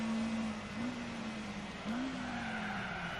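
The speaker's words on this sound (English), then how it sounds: "Horrible brakes that sound." In the video game Gran Turismo 4, a Ginetta G4's brakes squeal in sustained, wavering tones over a steady roar of racing car engines, faint and continuous.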